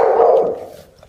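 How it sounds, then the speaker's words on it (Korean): An assistance dog barks loudly during a staged emergency drill for a person with a physical disability, one strong close bark tailing off over about a second. "도우미관이 곧바로 큰 소리로 짖어 주위에 도움을 요청합니다."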